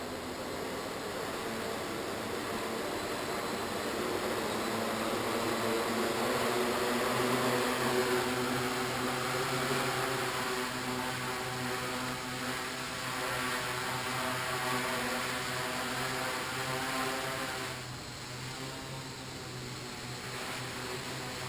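An XL multicopter drone flying indoors gives a steady, loud rotor drone with a constant propeller whine, holding level throughout and easing slightly near the end.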